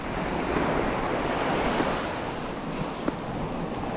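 Waves wash steadily on the Bornholm coast under a gusty east wind, with rushing surf and wind buffeting the microphone throughout, no voices.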